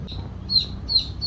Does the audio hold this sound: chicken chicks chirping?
yes